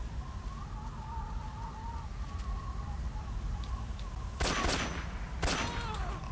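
Gunfire in the Metal Gear Solid 3 final boss fight, a video game: a couple of sharp shots ring out late over a steady ambient bed with faint bird-like chirps, fairly quiet overall.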